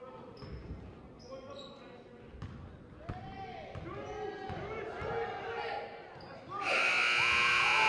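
A long electronic buzzer blares loud and steady near the end, sounding over crowd noise, squeaking sneakers and bouncing balls at a high school girls' basketball game in a gym.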